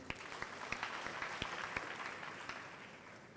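Audience applause at a graduate school congregation ceremony, a steady wash of clapping from a large crowd with sharper individual claps standing out throughout.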